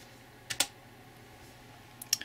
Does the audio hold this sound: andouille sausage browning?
no